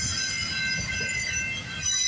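A CPKC freight train rolls past at the Guelph Line crossing in Campbellville on a winter morning, a steady close rumble of rail cars carrying a faint high wheel squeal that holds throughout.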